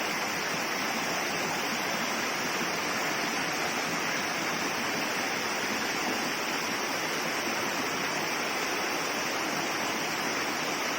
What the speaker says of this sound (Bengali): আর উপরে পাহাড়ি নদী স্নান করিয়ে দিয়ে যাচ্ছে স্বয়ং শিবকে।